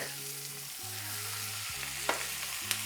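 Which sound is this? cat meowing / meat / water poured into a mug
meat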